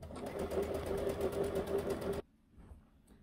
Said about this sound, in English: we're going to sew all the way around this cuff